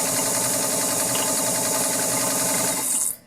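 A Kenmore Model 33 basic zigzag sewing machine runs a straight stitch, a steady rapid close chatter of needle strokes that continues evenly for about three seconds before stopping abruptly.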